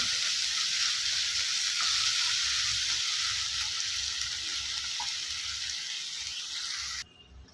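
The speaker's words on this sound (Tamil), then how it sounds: "இந்த தக்காளி நல்லா மசிஞ்சு வரணும் அது வரைக்கும் வதக்கி விட்ருங்க" Tomatoes being sautéed in a pan for a squid fry, a steady hissing sizzle that stays fairly even and close before ending abruptly, with no talking.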